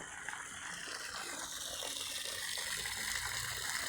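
Water rushes and splashes steadily from a drilled borehole fed by an AQUATICA DONGYIN deep-well centrifugal pump, a constant moderate gush with no pauses.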